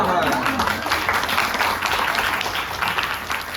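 Audience at a literary talk with a translator applauding, a thick, continuous patter of clapping that stays fairly even throughout the short stretch.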